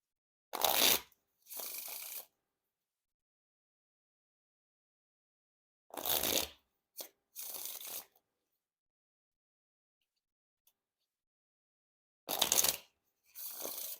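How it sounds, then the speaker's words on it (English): Three separate bursts of crisp, fluttering riffles of Fontaine Rip n Dip playing cards, each followed by a softer cascading bridge, spaced several seconds apart with silence between. "Now time for the riffle shuffle or bridge shuffle."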